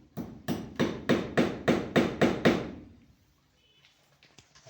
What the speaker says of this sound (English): Must use your hammer as always.